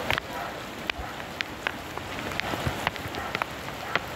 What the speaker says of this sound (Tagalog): Ito kasi yung tubig na galing sa bundok eh.